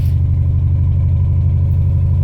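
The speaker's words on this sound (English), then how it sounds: "So basically what I started to notice as I was driving around was that it's developing a misfire." A turbocharged LS-swapped car engine developing a misfire while driving, a loud close low-pitched drone with a steady pulsing throb throughout, no speech.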